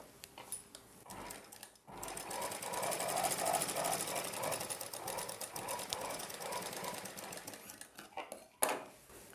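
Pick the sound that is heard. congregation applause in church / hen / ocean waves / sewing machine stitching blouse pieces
sewing machine stitching blouse pieces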